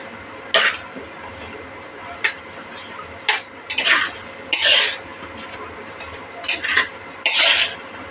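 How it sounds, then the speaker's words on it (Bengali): Mustard paste mixed with a little water in a bowl using a spatula, heard as separate scraping and clattering strokes, each a short burst of a second or less, close and fairly loud, with brief quiet gaps between them. "এবার এটা খুন্তির সাহায্যে মেখে নেব।"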